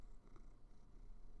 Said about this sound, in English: I hope they hear the purring